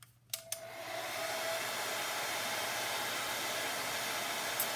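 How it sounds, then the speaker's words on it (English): Hair dryer blowing steadily on a wooden tag coated in chalk paint, a brief click as it switches on, then a loud continuous whoosh that holds to the end with no talking. "I'm going to dry this now with my blow dryer."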